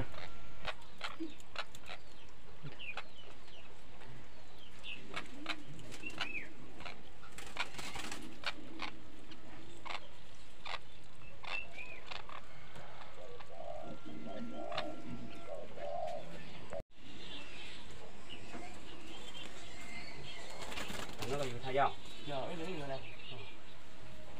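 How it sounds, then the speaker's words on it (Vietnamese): Caged birds at a Hmong village house, including spotted doves and red-whiskered bulbuls, coo and chirp repeatedly at close range, and people talk over and between the calls. "Cô nhà này nhiều chim thế nhỉ"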